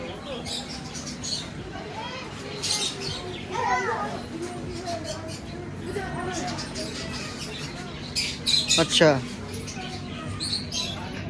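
Birds, including pigeons, call at a house grounds at night, giving scattered squawks and soft coos. People talk loudly at close range over them throughout.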